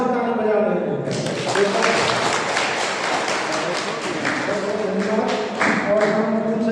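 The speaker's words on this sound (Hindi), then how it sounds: "सभी भीड़ से लग रहा है कि आपको पूरे उत्साह से ताली बजा रहे हैं।" Crowd applause at an inter-college yoga competition, dense steady clapping filling the hall throughout while someone speaks over it on a public address system.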